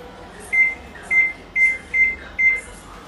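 A microwave oven beeps five times as its buttons are pressed, short clear tones in an even rhythm, close by, over a quiet room hum.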